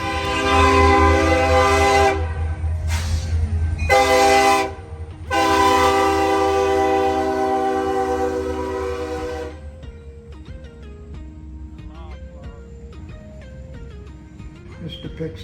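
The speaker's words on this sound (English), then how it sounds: "You want to see a train going by?" At a historic California train museum station, a passing train sounds loud, long horn blasts with a brief break, then quieter rolling and clanking of railcars as it moves on.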